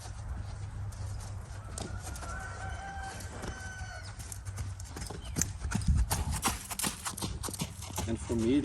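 A horse's hooves clip-clop steadily at a nearby riding session, a busy rhythmic patter under faint murmured talk, with a rooster crowing in the background.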